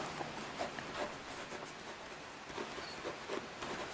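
Chalk or marker writing on a board during a university algebra lecture on algebraic structures, a quiet continuous scratching with short strokes throughout, fairly faint and without speech.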